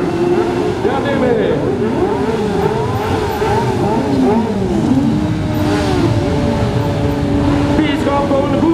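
Several quad bike engines rev and whine at once during a harvest festival parade, pitches sweeping up and down continuously, with shouting voices mixed in over the steady roar.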